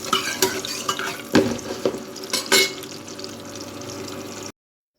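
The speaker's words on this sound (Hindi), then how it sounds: "प्याज को हल्का सा ब्राउन कर लेंगे, हल्का मतलब पिंकिश से ही रखेंगे।" Onions frying in oil in a home kitchen until light brown, a low sizzle under several sharp clatters of a spoon stirring against the pan, close, ending abruptly in silence.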